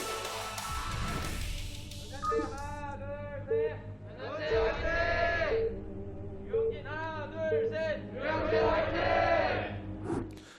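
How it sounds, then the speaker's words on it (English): Crowd at a StarCraft esports finals event cheers and yells in repeated surging bursts, loud and sustained, with a commentator talking over the noise. "We have audiences cheering."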